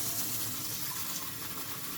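Room-temperature water streams steadily into a bottle while making sweet lemon iced tea, a continuous close splashing fill with no pause and no voices.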